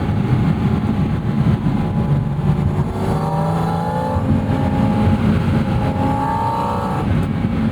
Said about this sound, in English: The biggest reason is just that induction note, that deafening engine behind you.